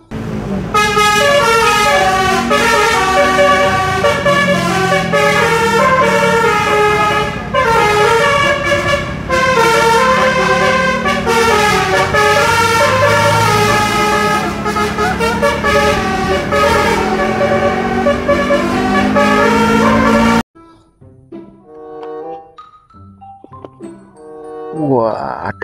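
Passing buses sound basuri (telolet) horns, loud melodic multi-tone honking that plays continuously for about twenty seconds, then stops and leaves quieter scattered tones.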